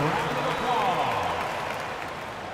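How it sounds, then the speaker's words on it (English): An arena crowd in an NBA 2K25 playoff game between the Minnesota Timberwolves and Golden State Warriors applauds in a steady, dense wash of clapping and cheering, with an announcer's voice mixed in. "Give yourself a round of applause."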